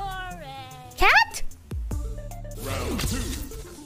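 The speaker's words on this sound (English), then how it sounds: "Cat?" A cat meows loudly and clearly, a rising, wavering cry standing out as a single call, with a person talking in a game-stream setting around it.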